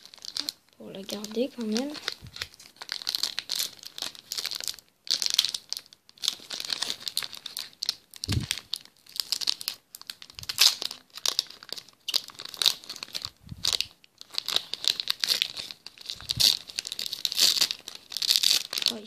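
A Pokémon XY booster pack wrapper is torn open and handled, giving close, repeated crinkling and tearing of foil plastic in bursts, with a person talking in between.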